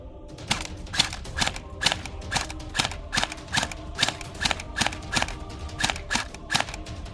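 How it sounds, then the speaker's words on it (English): A Bwine M4A1 gel ball blaster fires semi-auto, a string of fairly quiet, crisp mechanical shots at a quick, slightly uneven pace, heard close with a faint motor whir behind each pull. "Starting with semi-auto."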